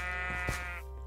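A single short sheep bleat from the Minecraft game, clear and wavering for about a second over a faint steady background, with no voices.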